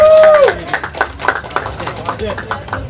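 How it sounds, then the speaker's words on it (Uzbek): A quick run of rhythmic hand claps alongside a lively voice, with the clapping continuing steadily after a brief high vocal note. "bitta qarsak bo'lsin"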